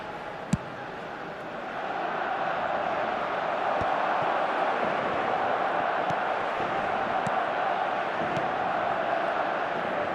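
A stadium crowd in a PES football game applauds and murmurs in a broad, steady wash that swells after a couple of seconds, with a few sharp knocks heard early on.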